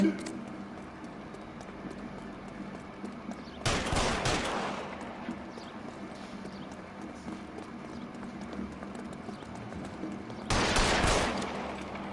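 Two bursts of gunfire in the video game L.A. Noire, each roughly a second long and loud against a steady low background hum, with about seven seconds of quiet between them.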